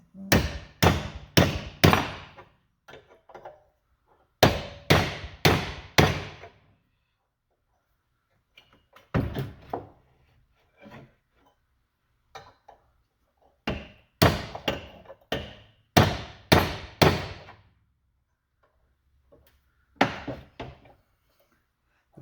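A hammer strikes hot iron on a Harbor Freight anvil while forging a rose, sharp ringing blows in quick bursts of three to six, separated by pauses and a few softer taps, close and clear.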